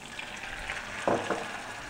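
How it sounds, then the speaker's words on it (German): Breadcrumbs frying in melted butter in a pan give a soft, steady sizzle with a brief louder crackle about midway, with no voices. "Meine Butter ist geschmolzen. Da kommt jetzt das Paniermehl mit rein."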